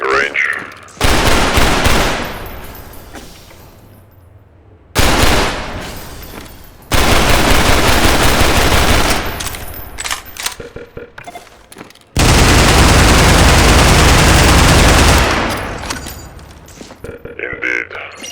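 Loud sustained bursts of automatic gunfire at a shooting range in Garry's Mod, several long volleys separated by short pauses, close and dominant.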